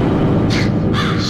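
Crows in The Mimic video game let out two harsh caws over a dense, rumbling ambient background, moderately loud and fairly close.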